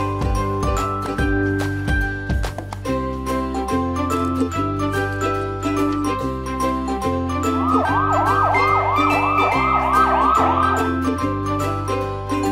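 An ambulance siren wails in repeated rising and falling cycles for a few seconds, layered over a bright, jingly music track.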